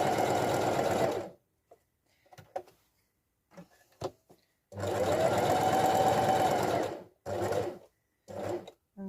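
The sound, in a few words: sewing machine stitching straight lines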